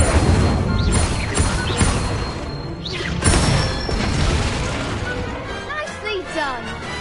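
Incendio fire spell effects in a Hogwarts video game, with crackling bursts, whooshes and smashing impacts piling up over a continuous loud game soundscape while a voice calls out spells.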